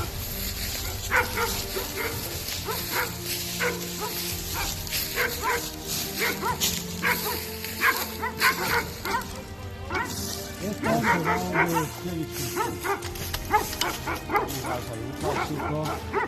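Polish hounds bark and yelp repeatedly during an outdoor hunt, a busy chorus of yips, whimpers and barks at varying distances, rising to a denser cluster toward the end, while people talk intermittently underneath.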